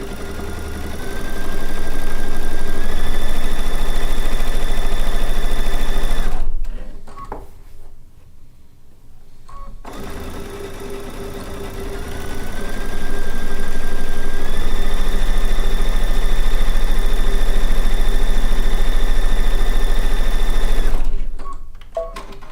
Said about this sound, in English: if I thought sewing over a pin would damage this machine, I would not be doing it